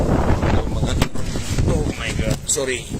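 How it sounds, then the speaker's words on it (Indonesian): Strong outdoor wind buffets the microphone in gusty, rumbling bursts, with someone talking over it throughout. "Angin kencang ya"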